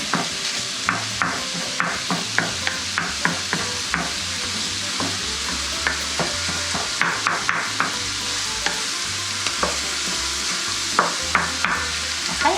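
Sausage fries in a hot pan, a constant close sizzle broken by frequent sharp scraping and chopping taps as a utensil breaks the meat into fine pieces, uneven in rhythm and without any voices.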